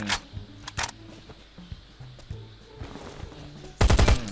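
Gunfire in the survival shooter Last Island Survival: two quick sharp shots early, a few scattered faint pops, then a loud rapid automatic burst near the end.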